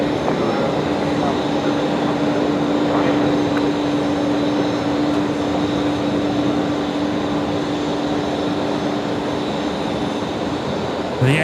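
Aircalin Airbus A320neo jet taking off at night from Brisbane Airport runway 01 right, a loud steady engine roar with a sustained tonal hum, heard from a distance.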